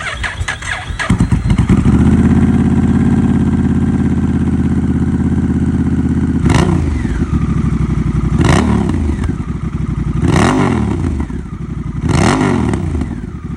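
A Honda Rebel 1100 motorcycle with a Kaufman's aftermarket exhaust starts up and settles into a deep, loud idle, then is revved in four sharp throttle blips spaced a couple of seconds apart, close and alone.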